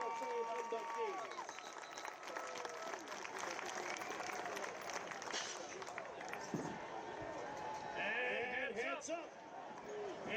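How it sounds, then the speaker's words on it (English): Crowd applause at a college football game for the 2025 UWF Athletic Hall of Fame inductees, West Florida against Valdosta State: steady clapping and crowd noise from a large stadium audience, with an announcer's voice carrying over it. "One last round of applause for all of our 2025 UWF Athletic Hall of Fame inductees."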